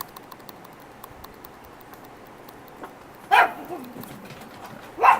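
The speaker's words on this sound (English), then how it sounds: "there are my dogs" Dogs bark in a house, two short sharp bursts heard at a distance, under faint keyboard typing and room hiss.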